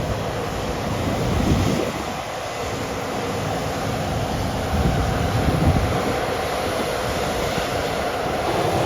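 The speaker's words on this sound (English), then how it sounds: "Quite a lot of wind tonight, which is good." Strong wind roars and buffets across the microphone in continuous gusts over a farm field at night, loud and rumbling, swelling at moments, with no voices.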